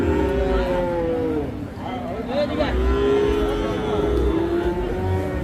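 Crossbred calves at a cattle market, a few drawn-out moos rising over a busy background of people talking and market noise.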